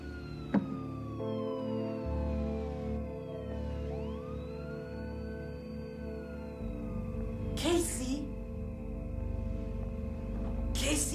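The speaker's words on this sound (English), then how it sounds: "I think that was a police car." A police car siren wails in a 1989 horror film, rising and falling tones sweeping over a low rumbling background with a couple of sharp bursts, fairly distant and moderately loud.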